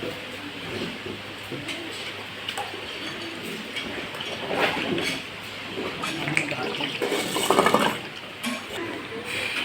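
A farm cow drinks from a water trough, with steady splashing and slurping of water at close range, bird calls around it and a voice speaking at times.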